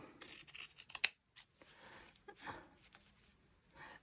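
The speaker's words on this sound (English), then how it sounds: "I'll hold my scissors there and I'm going to cut" Scissors snip through paper being trimmed down to size for a handmade storybook, a run of soft close cuts with one sharp, louder snip standing out partway through.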